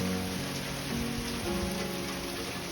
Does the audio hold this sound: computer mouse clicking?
no